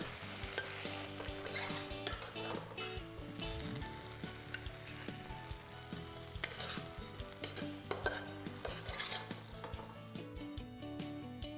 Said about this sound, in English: Toss the dish till it's a little dry.